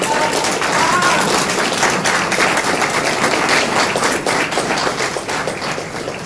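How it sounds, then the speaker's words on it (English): A crowd at a Trotwood-Madison Board of Education meeting gives graduates a big round of applause. Dense, sustained clapping from many hands continues at steady loudness throughout, fading slightly at the end. "Let's give our graduates another big round of applause."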